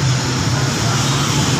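Dense street traffic in Dumaguete makes a continuous loud roadway roar with a low engine drone and no distinct passes.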